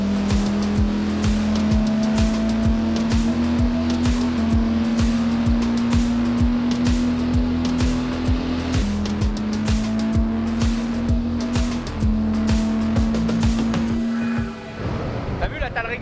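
Tuned diesel car engine, a TDS model with a straight-through exhaust, revving hard on a Shiftech dyno, a loud sustained roar rising in pitch through several gear pulls and dropping off at the end, with people talking over it.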